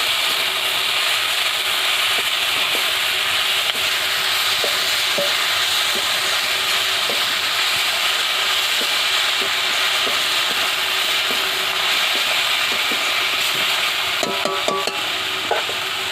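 Sajne (drumstick) greens sizzling and frying in a pan on a home stove, with steady loud hiss throughout and faint intermittent stirring scrapes, no talk.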